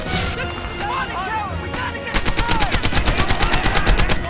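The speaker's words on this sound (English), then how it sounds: "the gunfire and explosions are a little underwhelming in Airborne" Gunfire in the video game Medal of Honor: Airborne: scattered shots and shouting voices at first, then a rapid, loud burst of automatic fire rattling steadily to the end.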